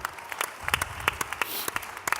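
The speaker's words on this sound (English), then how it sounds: "he deserves another round of applause," A conference audience at the 2018 IAC National Conference Israel panel bursts into applause, a steady patter of many hands clapping at moderate distance, with scattered louder claps standing out.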